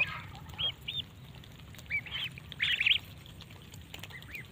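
A flock of twenty young ducklings, wings not yet feathered, feeding fast. Their short, high peeps come in scattered bursts over a steady low hum, with no talking.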